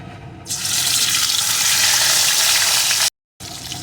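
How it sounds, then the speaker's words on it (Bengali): Singi fish frying in very hot mustard oil, a steady loud sizzle that starts after a half-second and runs continuously, cutting out briefly near the end before resuming. "এখন আমি মাছগুলোকে প্রথমে দিয়ে ভেজে নেব"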